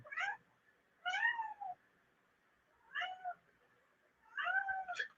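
A house cat meows four times in separate drawn-out calls spaced about a second apart, close and clear in an otherwise quiet room.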